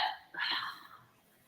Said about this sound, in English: you have got the hiccups.